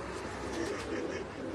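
Pigeons kept by a pigeon fancier coo on a rooftop in the UAE, soft low murmuring calls repeating under a steady hiss of background noise.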